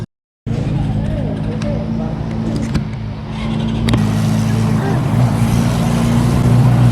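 A motorcycle engine drones steadily on a safety training course, rising into a louder throttle rev over the last few seconds, heard close without speech.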